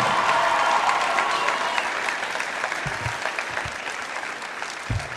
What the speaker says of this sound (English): can we have another round of applause for the senior mom?